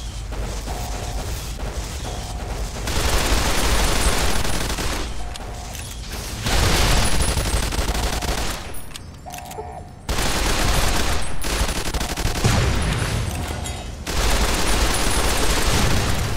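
Plasma weapon fire in Fallout New Vegas, Lonesome Road DLC: loud, dense volleys of crackling shots in several long bursts separated by brief quieter gaps, with chaotic battle noise throughout.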